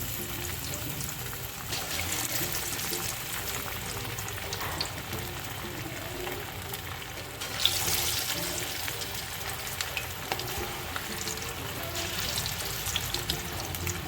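Chicken 65 pieces, including leg pieces, sizzle in heated oil in a pan, a steady soft crackling hiss that stays fairly quiet and even throughout, with no talking.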